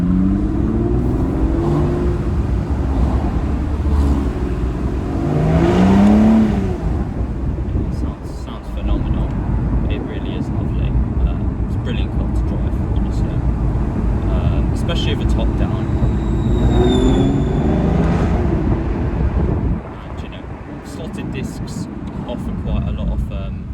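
A 2006 Aston Martin DB9 5.9 V12 Volante on a test drive, its engine and road rumble running steadily beneath ongoing talk inside the car, with a brief rise in revs.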